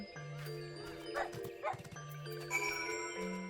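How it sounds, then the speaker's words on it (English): Wolf pups in Final Fantasy XIV giving short yips and barks to one another, a few quick high calls over a soft game music backdrop with sustained tones. "are our wolf pups barking at one another?"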